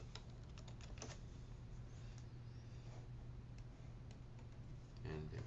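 A password is typed on a computer keyboard in soft, quick keystrokes, faint against a steady background hum, with a brief louder burst of clicks near the end.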